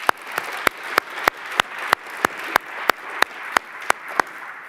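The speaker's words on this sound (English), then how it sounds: "So round of applause for that office." Audience applause at the Nobel Conference 2025, heard as a steady pulse of sharp, regular claps about three per second, fairly close and even, with no talking over it.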